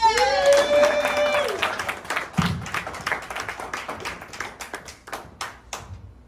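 Audience at a Reno stand-up comedy show clapping as comedian Steve Nickerson is brought on, a voice trailing off at the start before scattered, uneven claps take over and gradually thin out toward the end.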